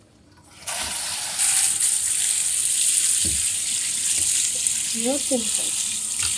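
Cold tap water runs steadily over freshly cooked macaroni in a kitchen sink, a continuous close splashing hiss that starts abruptly and holds, with a brief spoken remark over it.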